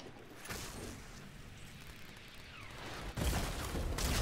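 Gunfire with heavy recoil in Fortnite, built from bursts of shots that trail off, then a louder, denser volley kicks in near the end, with no speech over it.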